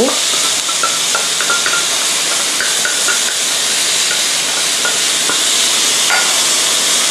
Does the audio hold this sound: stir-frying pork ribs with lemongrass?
yes